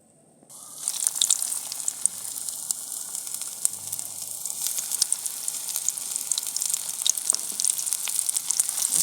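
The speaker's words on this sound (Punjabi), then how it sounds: "ਹੁਣ ਆਪਣਾ ਤੇਲ ਗਰਮ ਹੋ ਗਿਆ ਤੇ ਹੁਣ ਆਪਾਂ ਪਕੌੜੇ ਬਣਾਵਾਂਗੇ" Cauliflower pakoras frying in hot oil, village-style cooking: a bright, continuous sizzle starts abruptly after a brief silence and holds steady and loud, with scattered pops and crackles throughout.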